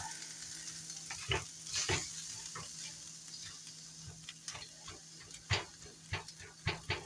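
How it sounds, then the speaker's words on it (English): Rice stir-frying with soy sauce in a pan, a steady close sizzle with repeated scraping and stirring knocks from a utensil breaking up the grains, no talking. "you can break up the rice as it heats up"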